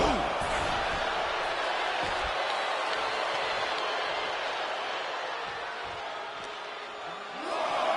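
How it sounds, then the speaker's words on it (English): In a WWE video game, a wrestler is sent hard into the steel ring steps with a heavy slam that cuts through a steady roaring arena crowd, while a commentator talks over the noise. "Sent flying hard into those steel steps"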